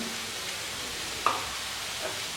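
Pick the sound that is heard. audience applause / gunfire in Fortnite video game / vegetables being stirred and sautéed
vegetables being stirred and sautéed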